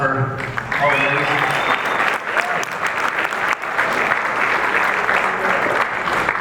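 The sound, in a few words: applause at gala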